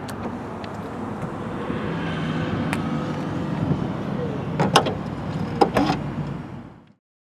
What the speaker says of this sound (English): we can close the trunk by this button right here